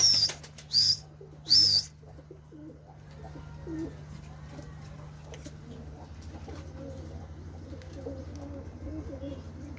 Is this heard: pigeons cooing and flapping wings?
yes